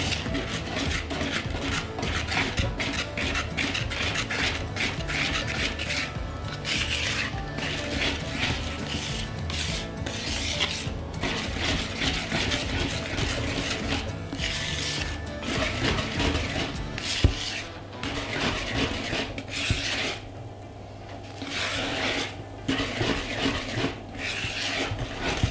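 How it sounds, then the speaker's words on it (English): Brownie batter is gently mixed in a bowl, a steady close-up scraping and rubbing with a rhythmic ratcheting texture that runs continuously and eases slightly near the end. "just give that a light, gentle mix together"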